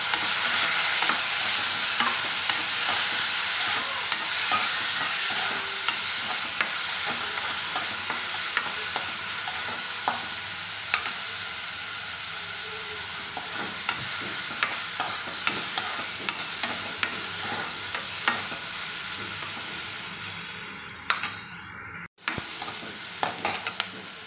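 Onion and peas frying in a pan while being stirred, a loud continuous sizzle with repeated scraping strokes of a spatula, no talking, and a brief sharp knock near the end.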